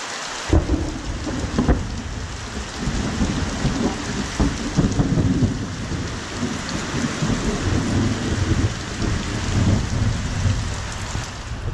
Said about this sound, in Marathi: तिकडे वीज कडागली. आता जोरात घडघडेल.